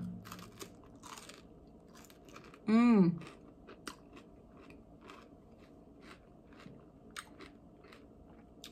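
Sharp crunching bites of barbecue chicken wings and chewing up close, then a pleased hum, followed by quieter intermittent chewing.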